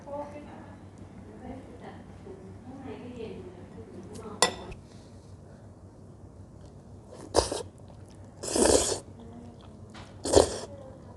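Eating Ubon-style tom jab noodle soup: a few sharp clinks of cutlery or a spoon against a bowl, spaced apart and fairly close, over a quiet room with faint background talk.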